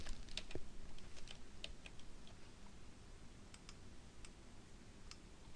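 Computer keyboard arrow keys tapped in a quick irregular run of light clicks, faint and close, over a soft steady background hiss.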